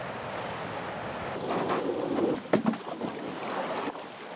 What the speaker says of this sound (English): This river, this is world-class whitewater.